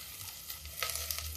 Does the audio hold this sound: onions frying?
yes